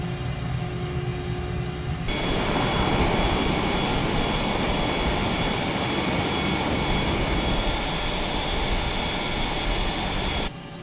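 Twin jet engines of an F-117 Nighthawk stealth aircraft in Microsoft Flight Simulator roar loudly and steadily with a broad hiss and whine, then cut off abruptly near the end.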